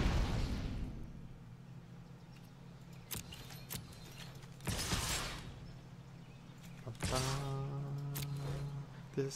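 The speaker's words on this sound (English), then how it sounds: "This is the sound of settling." Magic: The Gathering video game effect for the Settle the Wreckage card: a low rumbling swell breaks into sharp crackling bursts and a whooshing surge, ending on a ringing tonal sweep, moderately quiet with no speech.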